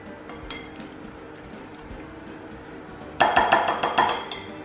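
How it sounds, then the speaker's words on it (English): Honey and oil whisked together in a bowl, quiet handling at first, then a fast run of close, rhythmic clinking strokes against the bowl for the last second and a half. "Whisk it together."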